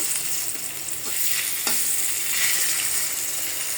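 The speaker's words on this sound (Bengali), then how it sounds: "একটা টাকি মাছ দিয়ে দিলাম ভাজার জন্য।" A taki fish fries in a pan of oil, a steady close sizzle with crackling spatter and a couple of sharper scraping or stirring touches midway.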